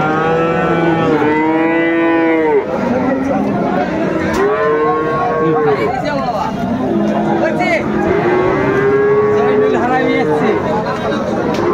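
A bull calf of Friesian or crossbred stock moos repeatedly at the Raniganj cattle market in Dinajpur. The long, loud bellows carry over steady crowd hubbub and nearby bargaining voices.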